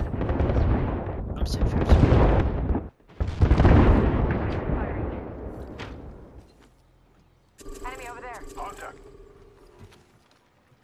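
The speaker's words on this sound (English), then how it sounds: "we've got an airstrike going down" Airstrike explosions rumble and boom in Apex Legends, heavy broadband bursts over the first six seconds while a player talks over them, then quieter game effects follow.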